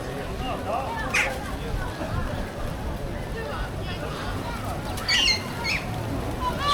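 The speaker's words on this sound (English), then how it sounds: "pigeons are horrible" A flock of pigeons in a city square squawks and flaps amid crowd babble, with wing bursts and calls scattered over steady background chatter while someone talks.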